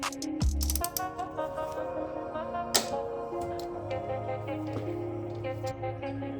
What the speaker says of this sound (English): now we'll be taking off this turbo feed line bolt with a 17mm